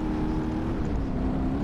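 A Formula 1 car in BeamNG.drive accelerates with a steady, loud, droning engine tone that holds constant throughout, alone without talk.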